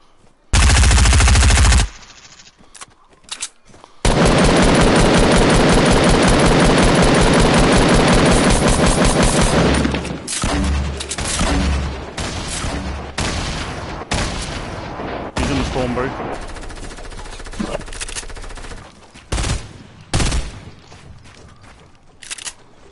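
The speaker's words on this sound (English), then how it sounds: "He's hitting with a rifle" Rapid automatic rifle fire in a video game rattles loudly in long sustained bursts, then breaks into shorter scattered shots and single cracks toward the end.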